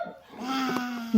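A voice imitates a goat's bleat with one drawn-out, wavering vocal tone, fairly close and clear.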